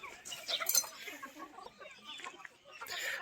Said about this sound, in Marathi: पूर्ण कोंबड्या पाणी प्यायला प्यायला आलेल्या आहेत